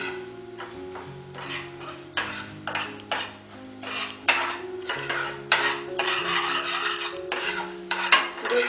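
Gram flour (besan) being stirred in hot oil in a pan for palak paneer, with repeated close, rhythmic scraping strokes of a spoon against the pan over a soft sizzle, with a steady hum underneath.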